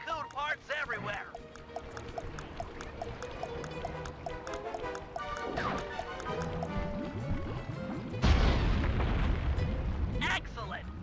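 Dynamite blast in Sly 3 blowing up a balloon anchor above Venice, a sudden loud low boom with rumbling debris arriving late, after a stretch of game music and sound effects.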